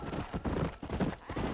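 Hoofbeats from a horse in the video game Red Dead Redemption sound in a short, regular clip-clop pattern, fairly soft and close, with a few evenly spaced thuds.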